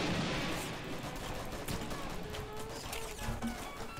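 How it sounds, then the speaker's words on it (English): Rapid gunfire and crashing blasts from a charged shotgun in the Roblox shooter Arsenal, loud dense bursts over continuous game noise, without speech. "What kind of gun is this? Looks like a charged shotgun."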